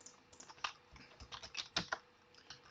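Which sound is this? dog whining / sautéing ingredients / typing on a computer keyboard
typing on a computer keyboard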